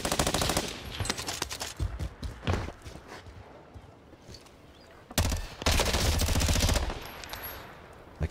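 Gunfire in an online shooter video game on the Caldara map: loud bursts of rapid automatic fire, some brief and some sustained, with quieter stretches between volleys.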